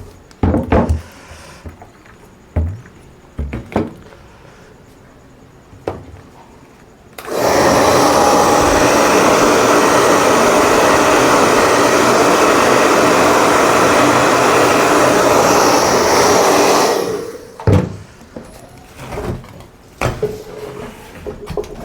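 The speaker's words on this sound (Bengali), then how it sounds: "একটু শুকিয়ে নিতে হবে ড্রায়ারের সাহায্যে" A hand-held dryer blows a steady, loud roar across fresh ink on a logo-printed umbrella, running for about ten seconds before cutting off, with quieter handling knocks before and after.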